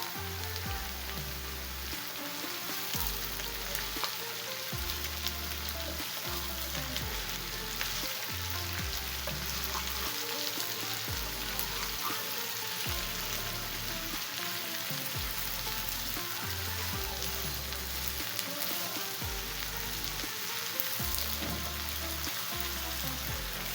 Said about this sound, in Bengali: এখন এটাকে একটু ভালো করে কষিয়ে নেব, মানে ভাজা ভাজা করে ভাজবো একটু